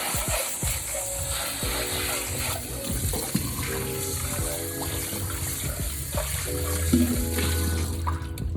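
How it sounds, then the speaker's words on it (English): Tap water runs into a bowl to wash freshly harvested garden produce, a steady splashing stream with clinks and handling noises, close and fairly loud, with no one talking. "All right, so we're gonna wash this out."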